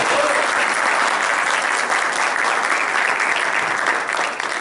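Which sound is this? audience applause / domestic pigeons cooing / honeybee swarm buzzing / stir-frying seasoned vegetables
audience applause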